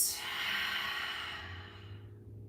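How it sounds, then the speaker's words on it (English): A long, deep breath out during a yoga breathing exercise, a soft airy exhale that fades away over about two seconds, close and alone. "Exhale, deflate the belly, breathe out."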